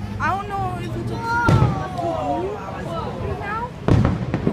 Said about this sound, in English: Wow, the fireworks are awesome.